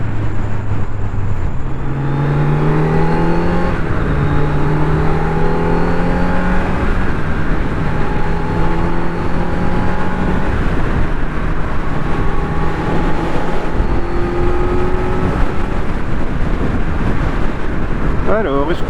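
A 2025 Kawasaki Z900 SE motorcycle being run in on the road, its engine droning steadily with rising and shifting revs through gears, close and loud under constant wind buffeting on the microphone.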